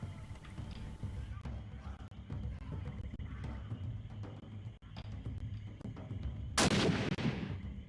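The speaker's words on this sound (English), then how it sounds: "Are we going to use the gun to shoot the ropes?" A gun fires to shoot ropes in the Sherlock Holmes: The Awakened video game: one sharp, loud shot near the end cuts through a low rumbling game ambience.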